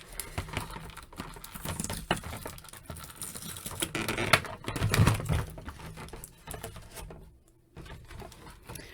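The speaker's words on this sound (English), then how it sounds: "let's remove all the plastic ties" Plastic ties being pulled and snipped from the packaging of a Masterverse He-Man action figure, a close run of crinkling, clicking and rustling plastic handling noises with no talking.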